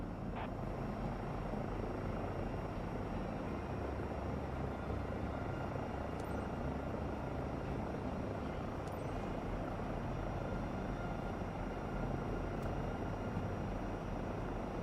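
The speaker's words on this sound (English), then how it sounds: "Eurocopter EC 135 Papa Yankee Hotel Delta is on final." A Eurocopter EC 135 helicopter in Microsoft Flight Simulator 2024 approaching to land, its steady rotor and turbine drone filling the background evenly and at low level for the whole stretch, with a few faint clicks.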